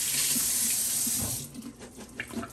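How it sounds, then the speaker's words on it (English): Drained canned beans for an Instant Pot chili are rinsed under a kitchen faucet. The water rushes loudly and steadily into the sink, then softens into an uneven splash as it hits the beans. "So I just kind of rinse them off."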